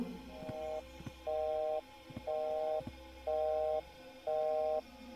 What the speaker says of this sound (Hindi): यहाँ पे टेलीफोन क्यों बज रहा है